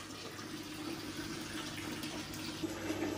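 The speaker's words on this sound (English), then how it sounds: "we've got a heavy flow of water coming out through here" Water flows steadily through a hydroponic NFT system's channels, a continuous close rushing trickle with a low hum beneath and no talk.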